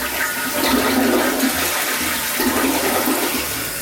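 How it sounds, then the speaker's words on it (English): A newly hooked-up household toilet flushes with a loud, steady rush of water close by, a continuous gurgling surge that runs without talk. "are you gonna flush the toilet right now?"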